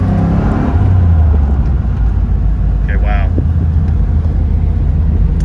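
A low-mile six-speed Chevrolet Z28 driving, its steady low engine drone filling the cabin as it runs through the gears, with a person briefly speaking over it.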